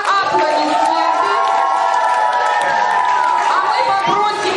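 Young participants and spectators at a children's quiz game at a summer camp cheer and shout in a loud, continuous wave of whoops and raised voices, with chatter mixed throughout.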